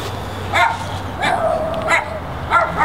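A dog gives four short, sharp yipping barks at a steady, spaced rhythm, broken by whimpering, fairly close and loud over a low background hum.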